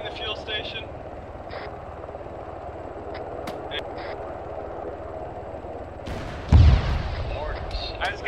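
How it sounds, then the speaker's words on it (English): Mortar shells exploding in a military video game, one loud deep blast near the end after a stretch of distant rumbling and scattered gunfire, with radio chatter in the background. "Mortar's hitting the fuel station."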